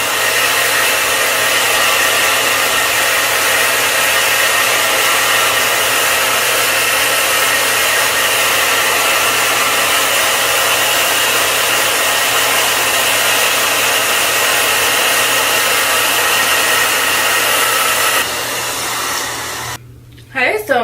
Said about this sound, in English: Then, while you're holding it down, you can blow dry it on high.